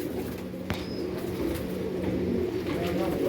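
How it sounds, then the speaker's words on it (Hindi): Pigeons coo softly in a low, throaty murmur inside a rooftop loft, with faint rustling and movement and a brief knock, steady and close throughout without talk. "तो इधर से कबूतर निकल जाते हैं।"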